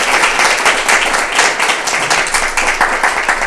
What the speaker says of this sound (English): can we give Donovan a round of applause just for this